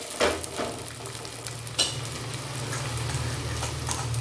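Ragi adai, a finger millet flatbread, cooks in oil on a pan with a steady close sizzle. A couple of sharp scraping clicks come near the start, likely from the flat spatula, and no one speaks.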